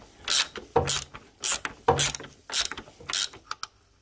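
A ratchet clicks in several short bursts while undoing a nut on a Triumph Bonneville gearbox, each burst a quick rapid clatter close by with brief pauses between, no talking.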